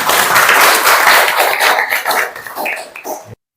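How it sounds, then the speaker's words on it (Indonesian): Students in a junior high school classroom clap together after singing, a dense close round of applause that thins and tapers off before stopping abruptly. "Tepuk tangan semuanya"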